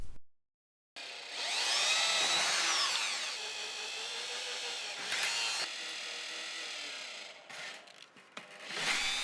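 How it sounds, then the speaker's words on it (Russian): An electric drill boring holes by hand into a metal computer case to vent the power supply, a sustained whining grind close up with the pitch wavering, pausing briefly and restarting. "решил попробовать насверлить дырок сверлом"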